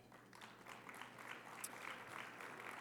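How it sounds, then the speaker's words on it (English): An audience at a national convention unity luncheon claps steadily, a sustained patter of many hands at moderate distance with no talking over it. "Please applaud."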